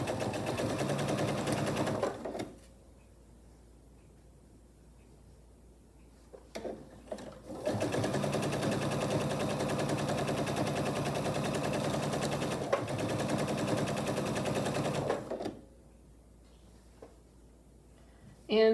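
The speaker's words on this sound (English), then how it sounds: "Sew a 1/4 inch seam allowance along the long edges and the short edges." A sewing machine with a quarter-inch presser foot stitches a seam along placemat fabric, running in two long, steady bursts of rapid mechanical clatter separated by a quiet pause.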